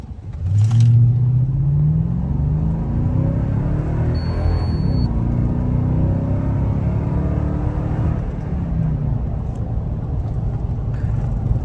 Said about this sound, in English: A little acceleration video from standstill.